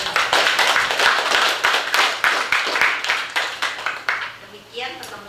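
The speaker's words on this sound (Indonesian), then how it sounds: "Kita beri aplaus dong" At the close of a Bible course session, a crowd claps in sustained, lively applause that slowly thins out and fades, with a few voices at the very end.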